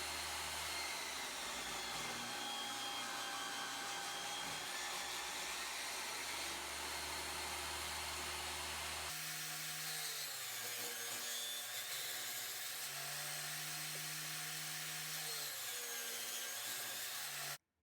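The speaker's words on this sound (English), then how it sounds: "we're going to resaw them right down the middle, and then we should be left with 4 equal thickness rings" Bandsaw blade resawing cherry wood segmented-bowl rings down the middle, a loud continuous whining hum with rubbing cut noise that shifts tone midway and runs unbroken.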